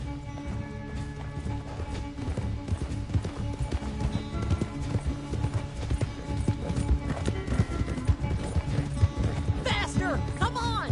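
Horse hooves clip-clop steadily at a ranch, a continuous rhythmic run of hoofbeats with occasional whinnies, heard under a constant mid-level background of activity.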